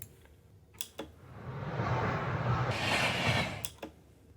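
Sound effect of a high-speed train rushing past: a building broadband whoosh that swells in the middle and fades, with a few sharp clicks at the start and end.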